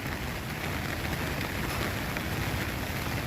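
Steady rain falling on a lakeside walking path in Bangalore, a dense, even hiss of drops that holds without pause, fairly faint and with no voices.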